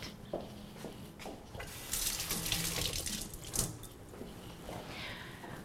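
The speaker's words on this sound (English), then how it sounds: "now, of course, I'm going to wash my hands since I've been handling raw meat." Hands are washed under a running kitchen tap after handling raw meat: a soft, steady stream of water splashing into a sink, swelling louder for a few seconds in the middle, faint and close.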